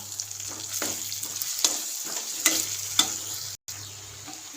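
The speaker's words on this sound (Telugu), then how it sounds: "చిక్కుడుకాయ వేసుకుంటున్నా." Broad beans fry in oil with turmeric, crackling and sizzling nearby while spatula scrapes and stirring knocks recur every second or so over a low steady hum.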